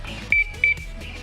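Two quick electronic beeps, evenly spaced, from an SGP motorcycle alarm disarming on a Raider 150, close and distinct against a low background hum.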